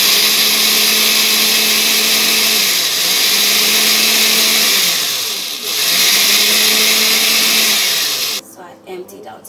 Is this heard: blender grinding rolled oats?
yes